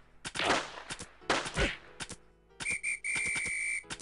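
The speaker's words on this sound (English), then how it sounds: "He's blowing the whistle" Police whistle blown repeatedly in a prison-themed video game, short sharp shrill blasts at first amid bursts of gunfire, then sustained piercing whistle tones near the end.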